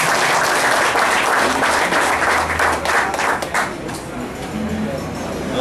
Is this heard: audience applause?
yes